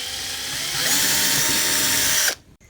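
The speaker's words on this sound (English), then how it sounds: "I'm going to be using a 3 and just drilling a hole just there." A power drill boring a hole for a large-project compass, a loud continuous whine that rises in pitch partway through, then cuts off abruptly near the end, leaving a brief click and near silence.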